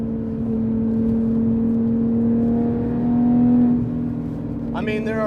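A Porsche 911 GT3 RS of the 991.1 generation accelerates on a track, its loud engine note climbing steadily in pitch for several seconds before easing off, with a brief voice at the end.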